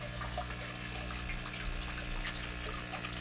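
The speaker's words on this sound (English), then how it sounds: "And then as the water goes down, it drips and then into the water." Water in an aquaponics garden system trickles and splashes steadily, a faint continuous running-water sound with a low pump-like hum beneath and occasional brighter drips.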